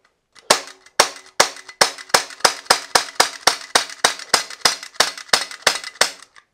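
An Umarex Glock replica pistol fires a steady run of about eighteen crisp, snappy pops at an even rhythm of roughly three per second, each with a short metallic ring, close up with no talking.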